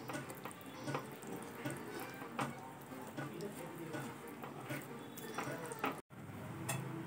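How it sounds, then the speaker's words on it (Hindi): Grated mawa being stirred and roasted with semolina halwa in a pan over a low flame, producing a soft, steady scraping and sizzling texture throughout, faint and close. "लो फ्लेम पर ही हमें सारी चीज़ों को अच्छे से मिलाना है और भूनना है।"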